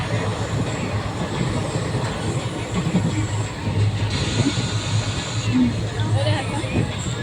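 A train rumbles steadily with a low rolling drone and faint clatter, while people talk in the background throughout.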